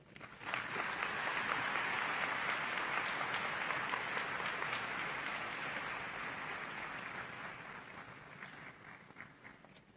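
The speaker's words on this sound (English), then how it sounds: "Let's give her another round of applause for Ambassador Bernstein" A conference audience at an annual educators' gathering at Carol Morgan School breaks into sustained applause for an ambassador after her speech, a dense, even clapping from a large hall crowd that fades gradually toward the end.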